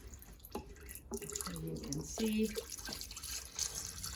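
Bone broth and water pour into a soup pot for butternut squash soup, a trickling, splashing stream with drips at the end, while a person talks over it.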